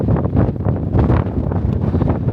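Strong wind buffets and roars against the microphone in loud, continuous gusts.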